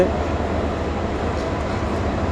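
A passenger train rolls along the Dhaka to Sylhet line, heard from inside a carriage as a steady broadband rumble and rattle, fairly loud and unbroken, with no clear voices over the noise.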